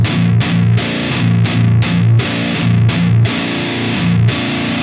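Electric guitar played through a fuzz-distortion pedal, loud saturated chords struck in a chopping rhythm with short gaps between bursts, alone with no talk.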